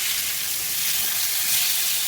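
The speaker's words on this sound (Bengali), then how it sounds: "বাকি বেগুনগুলোও ভেজে নিব" Brinjal slices fry in hot oil with a loud, steady, close sizzle that stays even throughout, no voices.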